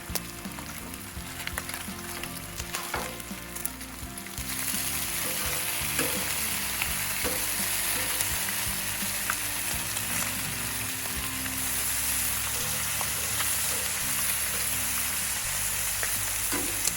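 Thick-cut bacon fries on a Blackstone griddle with a steady, close sizzle that grows louder and denser after a few seconds. Scrapes and clinks from a spatula or press cut through it now and then, and no one speaks.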